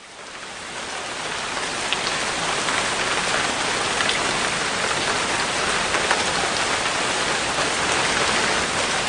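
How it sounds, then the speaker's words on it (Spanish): Handfuls of rice sprinkled onto an aluminium pie tin make a steady, dense hiss of rain, a constant patter of tiny grains that holds loud and even throughout with no voices. "El efecto de la lluvia normalmente se recrea con arroz, rociando un puñado de arroz sobre un molde de aluminio para pastel."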